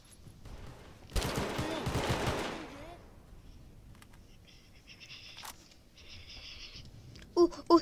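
Gunfire in the Roblox Vietnam War game Unit 1968: a burst of rapid, crackling shots rattles out for a couple of seconds, then gives way to quieter game sounds and a few sharp clicks near the end.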